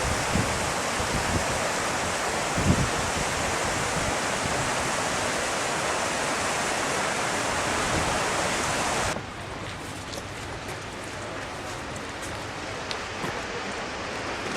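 Steady roar of an Iceland waterfall, a dense broadband rush that fills the whole clip, slightly quieter and thinner after a shift partway through, with no talk over it.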